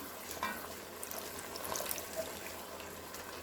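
Broth being stirred into a thickening beef stew with flour, a faint wet swishing and gentle bubbling with soft spoon scrapes, quiet and continuous.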